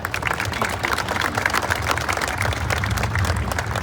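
An audience at a museum grand opening ceremony applauds steadily for a welcomed speaker, dense continuous clapping from a crowd filling the room with little else heard.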